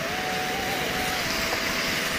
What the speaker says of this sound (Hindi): आवाज़ हो रही, जनरेटर चल रहा है